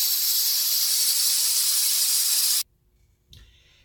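Flour roux for gumbo stirred in a pot over a gas stove between medium and high heat, heard as a loud steady hiss that cuts off abruptly, followed by a few faint scrapes and a soft clatter.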